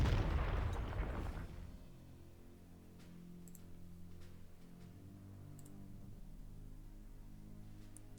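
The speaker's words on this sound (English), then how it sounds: "Now some more bombardment on these guys." Artillery bombardment in the strategy war game Panzer Corps Gold, a loud burst of booming fire at the start that fades into a quieter low hum with faint ticking clicks.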